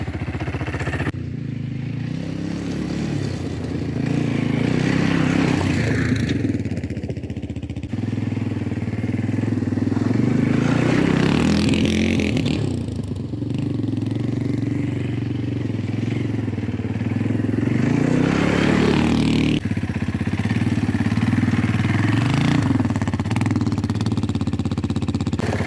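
A Jianshe Puma 250 quad's engine runs steadily up close, a continuous low throaty rumble with small swells in revs and occasional clatter, no voices.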